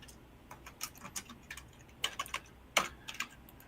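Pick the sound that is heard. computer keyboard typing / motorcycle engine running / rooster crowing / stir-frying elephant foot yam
computer keyboard typing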